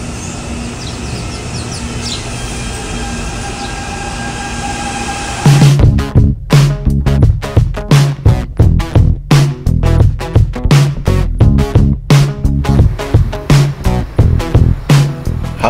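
CPTM Line 10 semi-express commuter train in São Paulo passing close and loud, a steady rumble giving way to a rapid rhythmic clatter of wheels over rail joints, with faint birdsong before it arrives.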